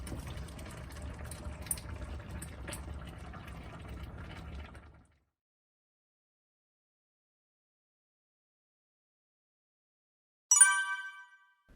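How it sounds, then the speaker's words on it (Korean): A pot of mala xiang guo with dried tofu, enoki mushrooms, bok choy, napa cabbage and Chinese glass noodles in sauce bubbles steadily for about five seconds, then falls silent before a brief sharp sound at the end. "소스가 담긴 냄비에 건두부, 팽이버섯, 청경채, 배추, 중국 당면 등을 넣어주고 채소가 숨이 죽을 때까지 보글보글 끓여주면"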